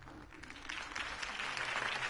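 A crowd applauds after a campaign speech for Harvey Dent, a broad, continuous roll of clapping that swells slightly louder and stays steady, heard from some distance.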